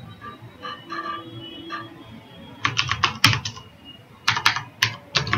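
Keys on a computer keyboard are tapped in short bursts while editing text, quiet scattered clicks at first, then quicker clustered clacks, close and clear with no talking.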